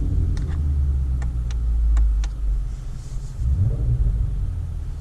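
A 2020 Shelby GT350R idles in loud exhaust mode with a deep, steady low rumble that swells and dips, a few sharp ticking clicks standing out early on, and no talking.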